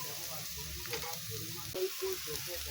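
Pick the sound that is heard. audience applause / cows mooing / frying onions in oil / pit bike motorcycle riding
frying onions in oil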